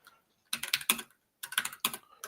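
Keys clatter on a computer keyboard during a live software demo, in two quick bursts of uneven typing separated by a short pause, close and fairly quiet.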